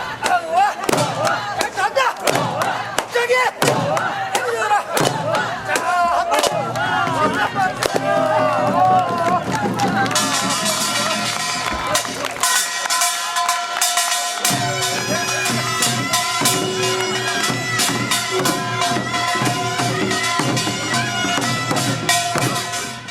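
Korean folk performers thresh grain with doriggae flails in a Goseong farming-song show in Mainz, Germany, with rhythmic chopping thuds and loud group chanting and singing above a crowd.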